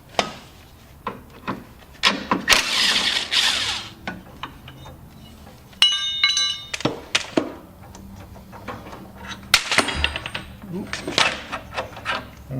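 Metal clanks, scrapes and rubbing as the drive pulley and clutch brake come off a John Deere RX75 riding mower, in scattered short bursts with someone talking throughout.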